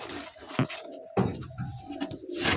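Several pigeons coo in soft, rounded bursts inside a loft, with a louder call at the start and others scattered through the rest. Handling noises and rustling rise and fall around them at close range.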